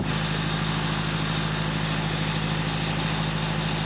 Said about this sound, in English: the man in the office is a bit annoyed at my fridge rattling away under his window